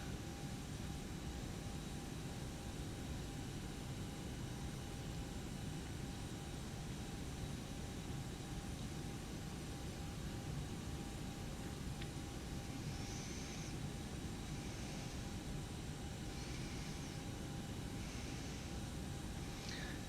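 Steady, loud engine drone of an airliner on landing approach with flaps lowered in the flight simulator X-Plane 11, a continuous broadband roar with faint higher chirps near the end.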